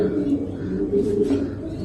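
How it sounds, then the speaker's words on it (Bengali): Racing pigeons at a loft cooing steadily, low soft repeated coos close by, forming a continuous murmuring drone with faint background noise. "আজকে কিছু কবুতর আপনাদের দেখালাম খুবই কোয়ালিটি ফুল কিছু কবুতর"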